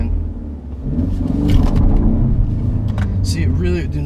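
A 2015 Ford Mustang EcoBoost Performance Pack with a 6-speed manual launching on asphalt, its engine rumbling up under load and rising in pitch as it accelerates, loud and close, with a voice speaking over it.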